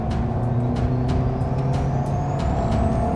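A 2023 Toyota Veloz with a CVT gearbox drives along with a loud, constant engine and transmission drone. A steady mechanical hum fills the cabin and no one speaks.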